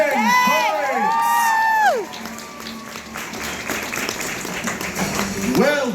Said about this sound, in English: another round of applause for Sir Gregory and for Tempest